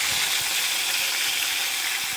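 Hot oil sizzles loudly and steadily as mackerel fries, a dense, continuous hiss close up with no talk over it.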